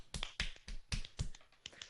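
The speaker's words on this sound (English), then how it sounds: "Just give them a real quick clap for anybody who's actually made this far." Several quick sharp claps from hands, about seven hits spaced unevenly over two seconds, close and moderately loud with no talking.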